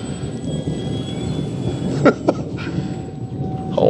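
Arrows Trekker 1.2 m electric RC airplane taking off, a steady whining motor drone that holds through, with a couple of sharp clicks partway in and windy outdoor noise underneath.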